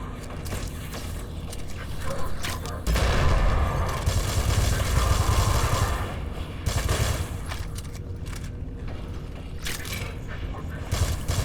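Shotgun firing in the N.O.V.A. 3 sci-fi shooter game, heavy repeated blasts and booms amid a busy mix of game effects and music, loudest in the early middle.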